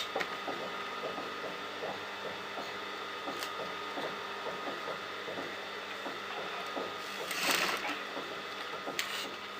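A sewing machine stitches steadily around a fabric neckline, a quiet rapid mechanical patter running evenly at close range with no talking.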